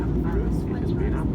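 Steady engine drone inside an airplane cabin on a flight to Kathmandu, Nepal: a loud, constant low roar filling the whole clip without breaks.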